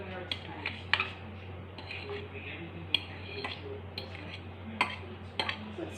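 Mashed banana is scraped from a plate into cake mixture, with intermittent sharp clinks and scrapes of a fork or spoon against dishes, close and irregular over a low room hum, with some talking mixed in.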